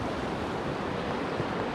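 A mountain river in Aurland in cow country, a stretch for fishing, rushes loudly and steadily nearby, a dense, unbroken wash of water noise.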